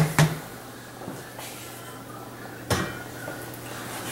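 Metal lid set onto a pan of smothered pork chops on medium heat, two distinct clanks a couple of seconds apart over a low steady simmering hum.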